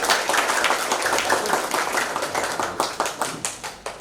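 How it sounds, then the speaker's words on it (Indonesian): A Christmas service congregation at GKT Ebenhaezer in Sumbawa claps in a lively, fast burst. The clapping is dense and close at first, then thins into sharper, more separate claps near the end. "Mari sekali lagi kita berikan tepuk tangan yang meriah."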